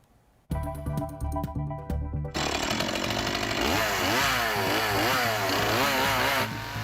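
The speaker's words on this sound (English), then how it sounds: "A man whose paintbrush is a chainsaw." A chainsaw used for carving wood sculpture starts with a loud roar and settles into steady revving, its pitch sweeping up and down as the blade cuts, close and continuous.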